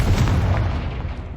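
A heavy Confringo spell blast booms in the Hogwarts Legacy video game, a single deep explosive burst that rumbles and fades away over a second and a half, loud and close.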